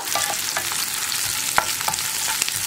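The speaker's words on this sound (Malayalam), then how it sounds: "സവോള ചേർത്തിട്ട് ഇതുപോലെ ഒന്ന് വഴറ്റുക, ഒരുപാട് വഴറ്റണ്ട" Sliced onions sautéing in a pan, a continuous close sizzle broken by a few light stirring clicks and scrapes, with no voices over it.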